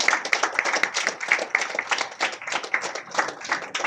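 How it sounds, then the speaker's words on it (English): Audience applause at a T-shirt and medal launch for a city run held in a hotel, steady lively clapping from a room of people, even and continuous for a few seconds. "let's give this a big round of applause"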